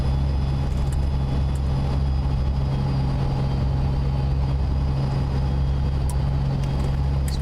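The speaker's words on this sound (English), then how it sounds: "Tractor rolling along over there." Steady low engine drone of a tractor rolling along in American Truck Simulator, a continuous idling-like hum with faint higher rattles, moderately loud and alone without talk.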